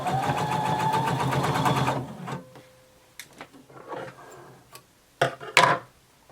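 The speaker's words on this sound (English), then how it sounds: "Make sure your seam allowances stay flat when you sew over them" A sewing machine runs fast and close for about two seconds, sewing across flattened seam allowances at the bottom of a bodice band, then stops, followed by scattered clicks and fabric handling.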